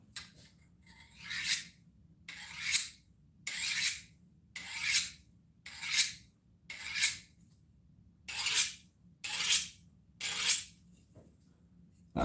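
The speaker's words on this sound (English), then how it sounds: "just sharpening my knife, ready to go." A kitchen knife is sharpened with about nine evenly spaced rasping strokes, each a short metallic scrape with brief quiet gaps between, close and clear with no talking.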